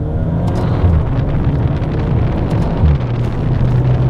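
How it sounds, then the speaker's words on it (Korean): A Maserati Ghibli hybrid GranSport gives a steady, loud low rumble with a droning exhaust-fan hum, heard close and continuous with no distinct pop standing out. "배기 쪽에서 이 팬 돌아가는 소리가 나면서 이 변속을 했을 때 팍 터지는 소리가 상당히 크게 좀 부각이 되는 특징이 있습니다"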